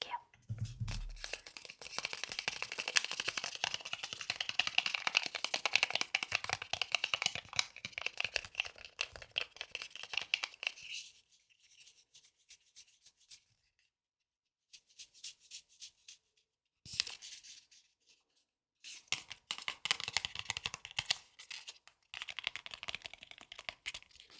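Close, crisp crinkling and rustling of a thin stick packet of pineapple-flavored kombu enzyme powder, handled in bursts of dry crackles with short quiet pauses in between.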